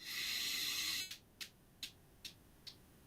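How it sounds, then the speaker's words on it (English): Someone takes a long, steady breath in through the nose. It is followed by several short, soft puffs of breath, close and quiet, with no talking. "Breathing in through the nose"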